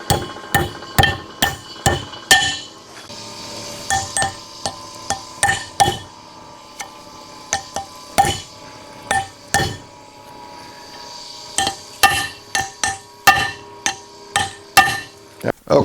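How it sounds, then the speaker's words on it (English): Big hammer striking a pin on a Columbian #206 vise, sharp ringing metallic blows in irregular clusters with short pauses between, loud and close. "Now we'll go to a big hammer."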